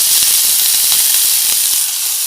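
Curry leaves and finely chopped onion hit hot oil with cumin seeds for a bitter gourd side dish, giving a loud, bright hiss and sizzle up close that eases off slightly near the end.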